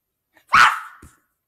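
A puppy lets out a single sharp, close bark, preceded by a tiny faint yip, in an otherwise quiet indoor room.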